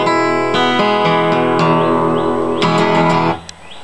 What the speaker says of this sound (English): Next one's an E. All the strings are open.